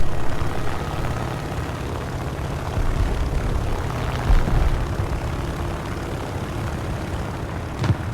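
Curtiss BF2C biplane in War Thunder, its propeller engine droning loud and steady throughout with a low rumbling roar and slight swells in pitch, plus a faint click near the end.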